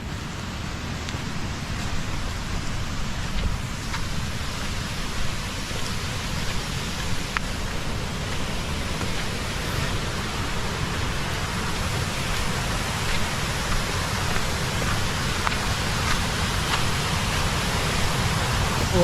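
A stream rushes in a steady, broadband flow on a trek to Barad Fort near Dahanu, a continuous splashing hiss with no breaks or voices.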